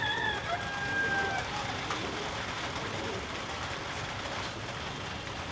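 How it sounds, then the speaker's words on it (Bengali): Heavy rain falling outdoors in a Bangladeshi village yard near a duck house, a steady faint hiss of drops with a brief distant bird call early on, no talking. "জোরেই পড়তেছে বৃষ্টি এখন"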